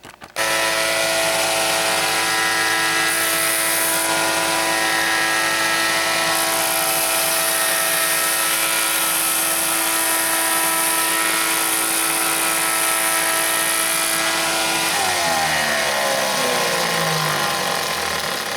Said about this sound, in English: I like to cut proud of the line and then bring it in with the belt sander to the line